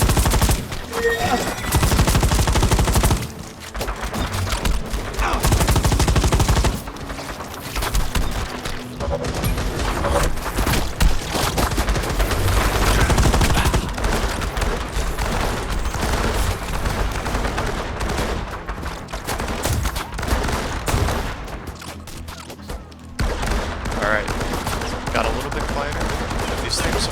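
A Firefall video game battle keeps up loud, continuous gunfire, with overlapping bursts and fusillades plus occasional booms, packed densely for the whole stretch with only short gaps.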